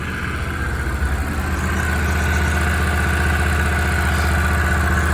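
Seat Altea 2.0 FSI petrol engine idles nearby, a loud, steady rumble with an even mechanical pulse and no change in pitch throughout.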